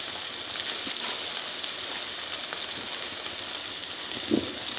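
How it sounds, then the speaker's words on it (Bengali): Spiced masala with ginger, cumin, turmeric, chili powder and salt, for a prawn and taro dish, stir-fries in a pan with a steady, moderate sizzle and a brief clink of a utensil near the end. "স্বাদ মতো লবণ দিয়ে লাড়াচাড়া দিয়ে এদিকে ভালো করে কষাই নেব"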